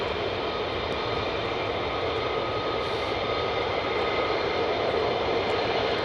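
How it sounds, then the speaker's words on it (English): Steady, loud jet engine roar of an F-35 fighter at RAF Lakenheath, a continuous broadband rumble holding level throughout with no pauses and no talk. "There is another F-35 out the back there that's looking like he or she is ready to go as well."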